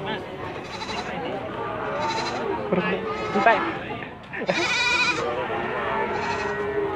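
Goats bleat repeatedly at the Gondanglegi livestock market in Malang, loud nearby calls rising over market bustle while people talk.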